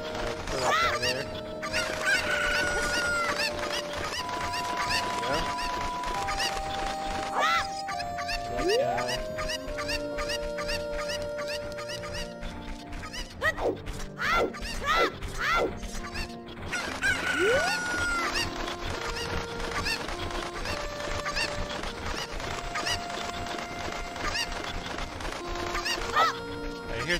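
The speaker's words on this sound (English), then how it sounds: "you have to use that to get some of the cuckoos" Cuckoo chickens at a ranch in a Zelda video game cluck and squawk in short bursts over continuous game music, with occasional louder crowing-like calls.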